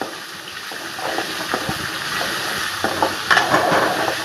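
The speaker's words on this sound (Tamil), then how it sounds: "வெண்டைக்காய் நல்லா வதங்கி வரட்டும். அந்த பச்சை வடை போகிற வரைக்கும் கொஞ்சம் நல்லா வதங்கி வரட்டும்." Okra (ladies' finger) sautéing in a pan, a steady close sizzle and crackle with a few scraping stirs and soft clicks of a utensil, no voices.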